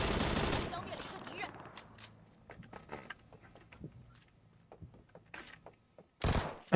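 Bursts of video game gunfire: a dense, loud volley at the start, scattered shots and thuds through the middle, then another sharp burst near the end.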